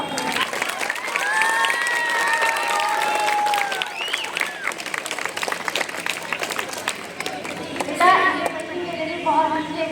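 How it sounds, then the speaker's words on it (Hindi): Loud, sustained applause from a crowd at a school Teachers Day celebration in Delhi, with children's voices and chatter rising over the clapping throughout. "शैला नवाज साहबा की तशरीफ को तोहफे ताहिर से नवाजते हुए जोरदार तालियां।"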